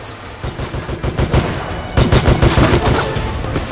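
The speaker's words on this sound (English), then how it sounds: "Just shooting blind fire." Bursts of rapid automatic gunfire in the video game Resident Evil: Operation Raccoon City, loud and close, with dense repeated shots in two clusters.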